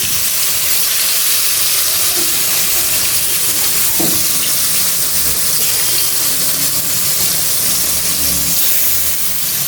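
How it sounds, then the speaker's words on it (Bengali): Rohu fish pieces frying in hot oil in a home kitchen, giving a loud, steady, close sizzle and crackle that runs unbroken through the whole stretch, with a faint clink of a utensil partway through. "রুই মাছগুলো তেলে দিয়ে দিলাম"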